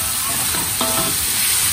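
Frog meat fries in a pan with a steady, close sizzle and crackle, with a brief burst of louder spattering partway through; no voices.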